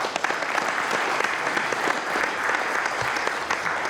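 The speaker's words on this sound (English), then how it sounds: "I just want to give you a round of applause." Sustained audience applause at a panel discussion, dense even clapping that carries on at a steady level through the whole stretch, with no talk over it.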